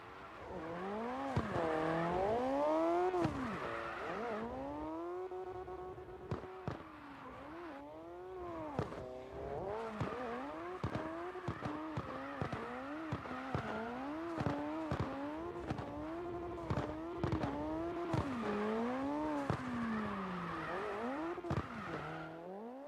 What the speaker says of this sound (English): There's a car.